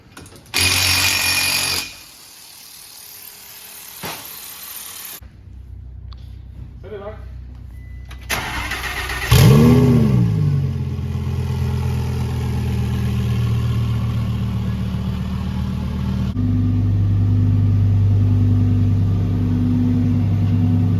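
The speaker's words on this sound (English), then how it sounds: "We're gonna take it for a few rips down the street." A twin-turbo Audi R8 starts up and revs, with a loud rising engine roar mid-clip that settles into a deep, steady idle, preceded by bursts of noise and mechanical clicks.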